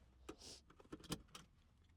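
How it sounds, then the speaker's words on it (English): Seatbelt in a Lotus Evora GT being drawn out and latched, heard as a quick series of close, light clicks, rustles and a metallic snap inside the quiet cabin, with no talking. "let's put on these seatbelts"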